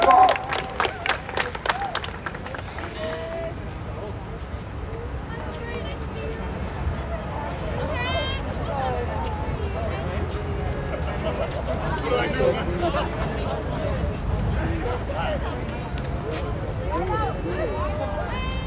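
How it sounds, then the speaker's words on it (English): Crowd at a street march outside a courthouse in Queens, a busy outdoor babble of voices with scattered claps and cheers at first, nearby talk continuing throughout. "Crowd out here."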